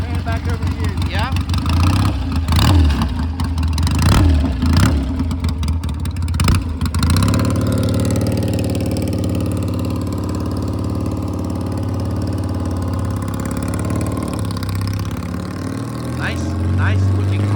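A 1971 Triumph Bonneville custom café racer motorcycle engine, blipped with sharp throttle revs at first, then settling into a steady throbbing idle, close and loud, with people talking over it.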